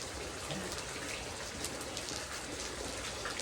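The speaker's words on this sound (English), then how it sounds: "I know I say it a lot, but I really just love the rain, and I love how relaxing it is." Rain falls steadily at dusk in a soft, even hiss of drops on surfaces, faint and continuous, with no voices.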